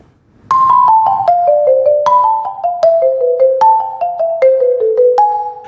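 A mallet instrument played with two mallets sounds bright, ringing notes in repeated descending white-note scale runs, the first note of each group struck with a sharper accent.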